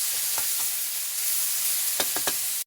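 Tomatoes sautéing with ginger in a pan, with a steady soft sizzle throughout and a few quick stirring scrapes near the start and several more toward the end.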